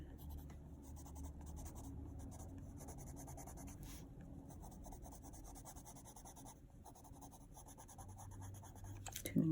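Black Inktense pencil shading on paper: a steady, close scratchy scribble of graphite-like lead rubbing back and forth, continuous for several seconds with a faint low room hum beneath.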